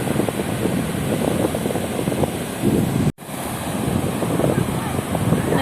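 Ocean waves wash onto a beach under heavy wind noise, a continuous close roar with a brief dropout midway, and voices faintly heard in the background.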